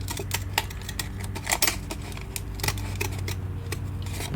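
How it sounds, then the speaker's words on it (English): Scissors snip through an index card in a craft setup, a run of crisp close cuts with small clicks at an uneven pace, alone without talk. "with your scissors, in my case these scissors, I'm just gonna go ahead and cut"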